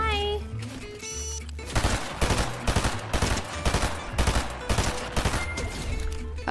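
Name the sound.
gunshots in the video game Fortnite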